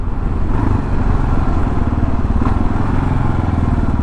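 A 2022 Kawasaki KLR 650 motorcycle rides in third gear, its engine a steady, loud, continuous drone with constant low rumble and wind noise throughout.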